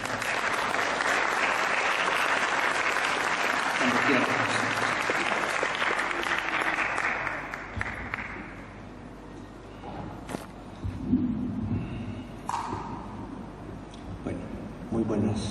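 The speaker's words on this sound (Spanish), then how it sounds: "Recibamos al doctor con un gran aplauso" A lecture audience at a cultural center breaks into loud, dense applause to welcome a visiting doctor. The clapping lasts about eight seconds, then dies away into a quieter room where someone speaks briefly.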